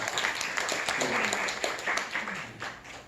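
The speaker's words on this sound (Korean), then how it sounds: "찬양팀이랑 하나님께 한번 박수를 크게 한번 열어보도록" A congregation at a church worship service claps steadily for a few seconds, a dense patter of many hands with a faint voice or two mixed in.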